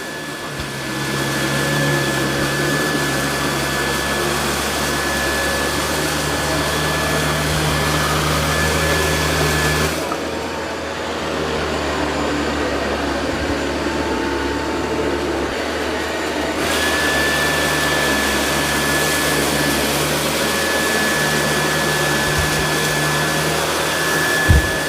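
A Dyson 360 Vis Nav robot vacuum runs with a steady high whine and motor hum, close and constant, dipping briefly in the middle before resuming.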